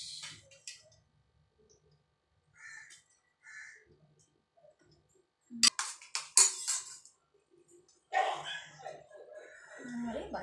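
A dog barks in short bursts at a moderate distance, with quiet gaps between them and some faint background noise.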